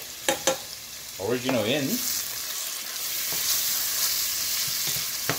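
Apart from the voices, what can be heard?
tomato base with seafood chowder ingredients cooking in pan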